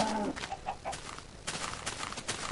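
Minecraft chickens clucking in short, soft bursts, a few brief calls scattered over a faint background.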